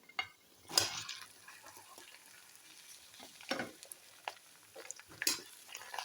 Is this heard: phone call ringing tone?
no